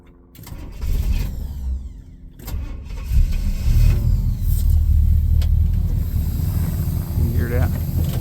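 A 1967 Pontiac Catalina engine cranks and catches, then settles into a loud, steady rumbling idle with the choke still on, close by, with a voice briefly heard.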